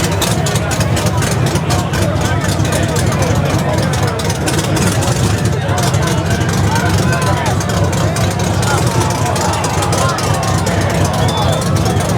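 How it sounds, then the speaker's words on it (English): A heavy truck engine rumbles loudly and steadily nearby at a car meet, with voices talking underneath the constant noise. "Back up, please. I got a truck coming down."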